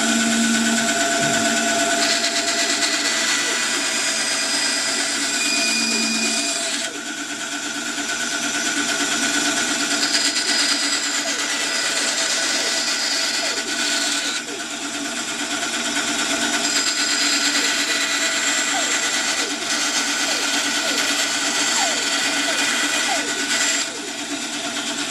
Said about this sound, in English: let's go over to the bandsaw and cut these out